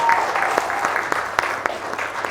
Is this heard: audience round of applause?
yes